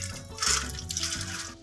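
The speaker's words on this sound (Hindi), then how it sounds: "तो दालें शामिल करने के बाद इसमें हम डाल देंगे खुला पानी। पानी में इसमें डालने लगी हूँ 4 लीटर के करीब।" Water pours steadily into a large pot of soaked lentils for beef haleem, a close, continuous splashing gush with a hissy rush and slight swells, no talking.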